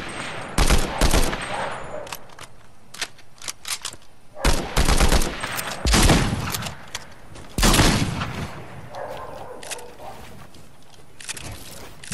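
Bursts of rapid automatic gunfire in Fortnite, several volleys separated by short gaps, loud and close, with fainter shots between.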